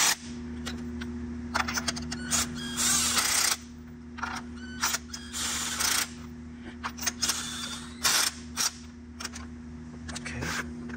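Ratchet clicking while tightening spark plugs on a 2000-05 Toyota RAV4, with bursts of rapid metallic clicks repeating in short strokes over a steady engine-bay hum, close and fairly loud.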